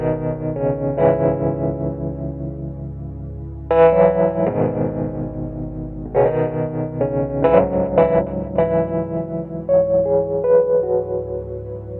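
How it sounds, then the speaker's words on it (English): Wurlitzer electric piano played through a small amp model with drive, the low end cut, light compression and reverb: gritty, slightly distorted chords and melodic phrases, close and alone with no talking. "I'm also sending the Wurlitzer through the small amp model with a bit of drive and the bottom taken out. Touch of compression, bit of reverb."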